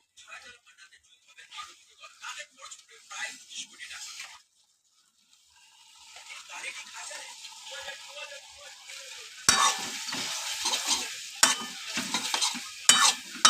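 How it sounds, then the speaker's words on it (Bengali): Pasta being stirred into white sauce in a pan, with scraping and wet stirring strokes that start quiet, pause, then grow louder and busier, close by. "পাস্তা দিয়ে একটু নাড়াচাড়া করে নিচ্ছে যেন লেগে না যায়"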